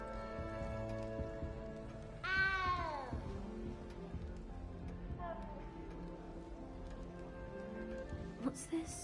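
A cat meows in the Hogwarts Legacy video game, one short rising call near the start, heard over a steady background of music and ambient game sound.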